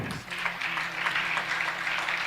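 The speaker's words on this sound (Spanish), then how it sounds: "Le damos la bienvenida con un fuerte aplauso a los representantes de la red Bioca" Moderate applause from an audience welcoming speakers at an educational event, a continuous patter of clapping with a soft murmur underneath.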